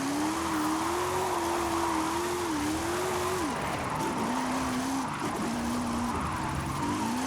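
Engine of a classic Maserati tuned to 1,900 horsepower, driven in Forza Horizon 5: a loud, steady droning roar that holds a pitch, drops sharply as the car shifts or lifts, then climbs again, with tyre noise underneath.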